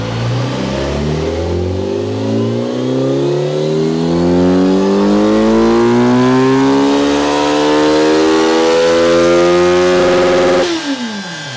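A 2024 Kawasaki Z900 motorcycle revs steadily upward on a dynamometer, its loud engine note rising in pitch for about ten seconds before cutting off sharply near the end.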